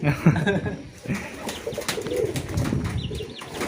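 Pigeons or doves coo steadily inside a breeding cage, soft repeated calls close by with some chirps and faint wing flutter, and a little murmur of voices in the background.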